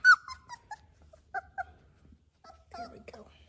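A young doodle puppy whimpers in short, high, thin whines that come in scattered bursts with pauses between them, heard close and fairly soft.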